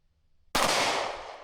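A single sharp gunshot from a Canik Prime pistol cracks out loud and close, followed by a long, fading ring of reverberation, with no voices.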